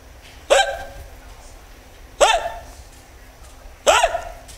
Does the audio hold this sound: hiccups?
yes